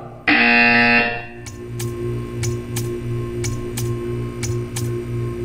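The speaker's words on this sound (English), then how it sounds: "When you hear the buzzer, stare at the art." In the Portal 2 video game, a loud tonal buzzer sounds for about a second, then a row of sharp, evenly spaced ticks follows over a steady electronic hum.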